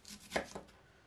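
A few quick knife cuts slicing the end off an onion on a board, close and fairly quiet, with a brief pause between strokes.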